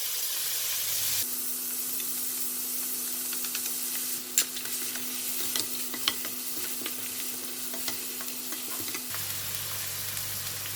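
Onions and spices sizzling in hot ghee in a pan, a steady close hiss with scattered stirring clicks and a constant faint hum underneath, no talking.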